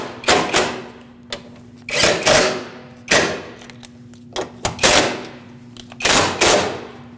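Radiator mounting bolts being snugged on a 2006-2015 Lexus IS250, with loud close bursts of a power ratchet or impact tool, about six rattling runs separated by short pauses.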